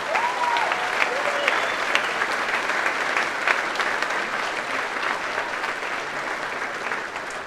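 A large assembly audience at a fall general meeting applauds steadily for the foundation staff, dense sustained clapping filling the room, with a few faint voices and whoops in the crowd.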